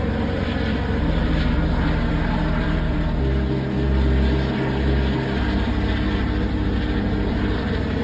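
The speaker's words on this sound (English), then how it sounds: "It's a helicopter. It's a helicopter." Helicopter flying overhead near an ancient hilltop temple, a loud, steady engine roar that swells in the middle and eases off again.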